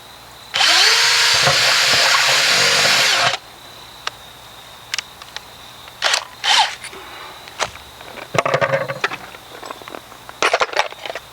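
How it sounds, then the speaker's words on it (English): A power tool cuts into the bottom of a plastic 5-gallon bucket in one loud, steady three-second burst, followed by scattered clattering, knocks and handling noises. "first I want to cut out the bottom of this 5-gallon bucket that I got from Lowe's."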